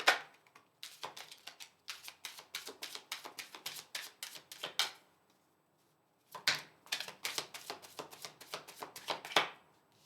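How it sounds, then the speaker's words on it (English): Tarot cards are shuffled in quick riffling bursts, two flurries of rapid soft clicks and flaps separated by a short pause, close and fairly quiet. "So let's pull 4 cards."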